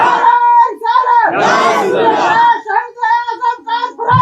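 Crowd at a Muharram religious gathering raising a loud chanted slogan in unison, a burst of massed voices between stretches of a single man's amplified speech.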